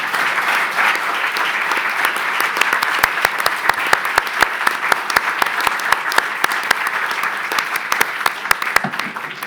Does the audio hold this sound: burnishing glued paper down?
no